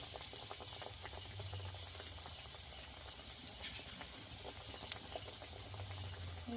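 Potato chops dipped in gram-flour batter sizzling in hot oil, a faint, steady bubbling hiss with scattered soft pops, low in level and continuous throughout.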